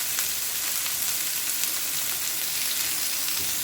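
Curry leaves splutter in hot oil with onion and ginger-garlic paste for a mushroom pepper fry, a dense, even crackling sizzle heard close up throughout.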